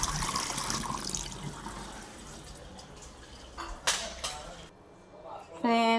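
A freshly picked orange from a home fruit tree is washed in water, with sloshing and a couple of splashes mid-clip and a voice speaking near the end.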